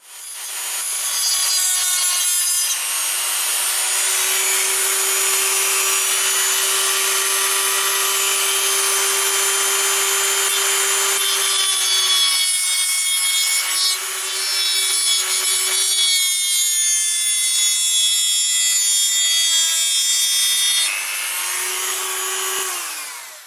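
A small rotary cutting tool whines loud and continuously while cutting a section out of the running plate of an OO gauge 9F model locomotive kit, with short dips as the cut pauses and resumes.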